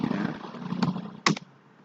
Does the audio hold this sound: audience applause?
no